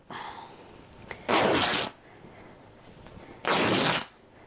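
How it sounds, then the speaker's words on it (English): Quilt backing fabric is torn by hand in two loud, sustained ripping bursts of about half a second each, separated by a quiet pause, with no voices. "you get a little aggression out when you tear"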